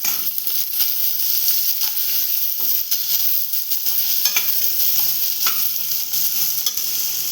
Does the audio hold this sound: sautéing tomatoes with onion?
yes